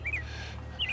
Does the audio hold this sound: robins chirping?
yes